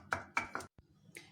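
Green chilies pounded coarsely in a mortar and pestle for Maharashtrian thecha: three quick thuds in a row, a pause, then two more sharp knocks, close and fairly faint.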